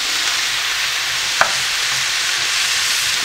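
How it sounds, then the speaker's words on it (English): Beef sautés with onion and garlic in a pan, giving a steady, loud, even sizzle throughout with one brief click of a utensil partway through and no talking. "saute the meat with onion"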